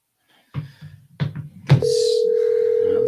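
Telephone call connecting, with a few short clicks and tones before a steady, clear ringing tone takes over and holds to the end.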